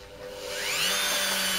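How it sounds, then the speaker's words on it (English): A steady power drill polishing a chip and scratch out of a glass paperweight with powder whirs alone, its motor pitch rising and settling into a continuous high hum with a rubbing edge, close by. "we're going to get the drill on now"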